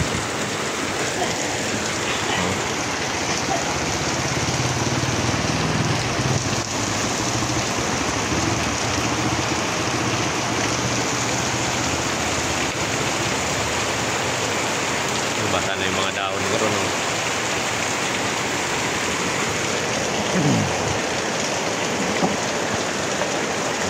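Heavy, steady rain pouring down on a vegetable garden, drumming on surfaces, a dense continuous roar that stays loud throughout.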